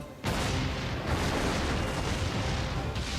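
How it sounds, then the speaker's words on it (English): Continuous loud, rumbling blasts and crackling bursts, one explosion running into the next with no pause, dense and close. "And so many explosions."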